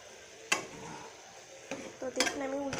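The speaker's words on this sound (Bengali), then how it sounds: "তো এখন ডিমটাকে উল্টিয়ে দেওয়ার পারফেক্ট টাইম। তো আমি এখন ডিমটাকে উল্টিয়ে দিচ্ছি।" Egg cooking in a frying pan is turned and stirred, giving a few sharp clacks of a utensil against the pan and scraping over a soft background sizzle, with no talking.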